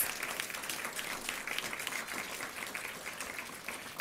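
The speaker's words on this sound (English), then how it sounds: "let's give a big round of applause" An audience at a school board meeting applauds steadily, a dense wash of many hands clapping at moderate volume, heard from a slight distance.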